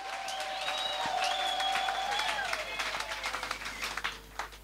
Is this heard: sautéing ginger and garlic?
no